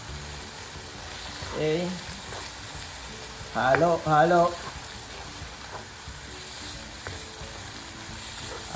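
Chicken guisantes, a Filipino chicken and green pea dish, frying and being stirred in a pan, with a steady broadband sizzle throughout and a brief spoken word partway through.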